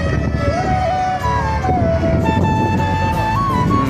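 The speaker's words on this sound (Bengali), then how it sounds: "একটা লঞ্চ যাইতেছে, এই যে লঞ্চটা" Passenger river launch sounding its horn as it passes, a loud sustained tonal blast with shifting pitch over low engine rumble and outdoor noise.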